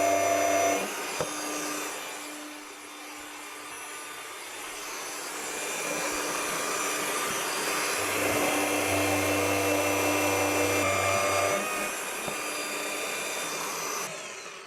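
Cooling fans of an Aferiy P110 portable power station running under a heavy 1700-watt load, a loud steady whirring rush that holds continuously throughout with slight swells in intensity.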